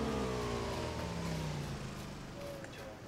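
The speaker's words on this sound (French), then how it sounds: "Tiens, j'ai une moto." A three-seat motorcycle in the PUBG battle royale video game revs steadily nearby, its engine note sliding down in pitch as it runs, loud and alone.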